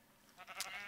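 Sheep in a survival video game let out a short, faint bleat, a single brief call rising out of quiet background with no speech.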